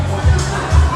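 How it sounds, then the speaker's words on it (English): A crowd at a wrestling podcast event gives a short burst of cheering, heard as loud, close bursts of massed voices in two brief swells. "We got a cheer, ladies and gentlemen."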